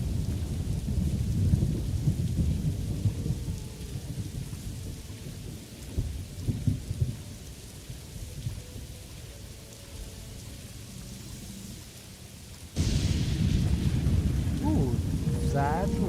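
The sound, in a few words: rain and thunderstorm in the video game Morrowind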